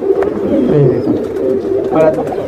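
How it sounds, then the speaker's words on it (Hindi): Soft cooing of Indian desi pigeons mixed with nearby chatter, the low throaty calls rising and falling through the short stretch. "बहुत अच्छा कबूतर है आकाश भाई"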